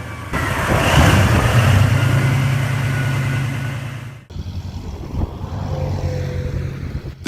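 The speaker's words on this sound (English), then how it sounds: "S16R is a high-capacity V16 diesel engine delivering 65 liters of torque-heavy performance." A 65-liter S16R V16 diesel engine runs with a deep, steady, loud rumble, then cuts abruptly and restarts at a slightly lower, rougher idle with faint tonal whine.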